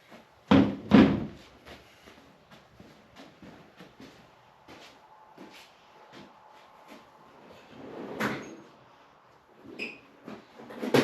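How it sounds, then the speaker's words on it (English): Hammer blows knocking a bushing out of a TH400 (Turbo 400) transmission pump: a pair of loud, close metallic thunks near the start, then quieter taps and scrapes, with another firm strike later and a final knock at the end. "Now let's see if we can knock that bushing out without too much pain and suffering."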